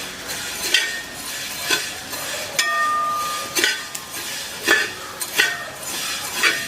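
Vermicelli roasts in a pan for payasam, with repeated scraping stirs of a spoon against the metal every second or so, light clinks and a soft background sizzle, close and without talk.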